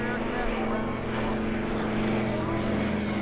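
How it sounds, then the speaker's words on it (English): A C-47 cargo plane's propeller engines drone with a steady low hum and tonal throb at constant loudness throughout. "it allowed 2 C-47 cargo planes to land under the cover of darkness"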